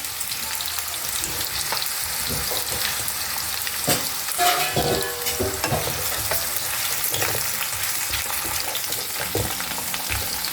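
Potatoes sizzle steadily in hot oil in a wok, half-fried, a dense continuous crackle with occasional stirring scrapes throughout.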